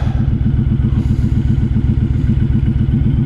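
A 2016 Honda Fury motorcycle engine idles close by with a steady, loping low rumble and rhythmic pulsing throb.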